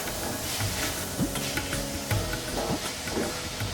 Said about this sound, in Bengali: এবার এটাকে আমি একটু কষিয়ে নেব।